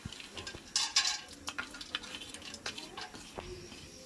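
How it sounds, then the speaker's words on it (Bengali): Faint sizzling of cashews frying in white oil in a hot kadai, with a utensil stirring and scraping in scattered bursts against the metal. "ততক্ষণ কাজু কিশমিশগুলো ভেজে নিই।"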